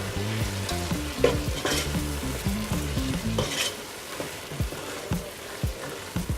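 Chicken sizzles and frying hisses in a pan for homemade chicken biryani while a utensil stirs it, scraping and clinking close by in an irregular rhythm, first beneath a patterned humming tone that cuts off midway.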